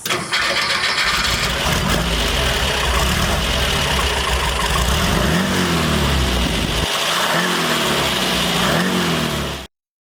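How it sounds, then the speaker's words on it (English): A Porsche 914 with a 2056cc engine, MegaSquirt aftermarket fuel injection and dual throttle bodies cranks and catches, then runs loud and close with uneven idle and blips of revving before cutting off abruptly. "2056cc Porsche 914 motor that is equipped with an aftermarket"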